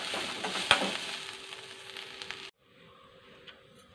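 Food sautéing in a pan for a Kerala-style dish, with steady close frying sizzle and a brief stirring clatter near the start, then a sudden drop to a faint low hiss for the remainder.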